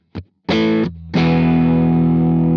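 Distorted electric guitar through an Empress Para EQ set to a wide, gentle mid boost: a short pluck, then a held chord, a brief low note, and a long ringing chord that sustains loudly and alone.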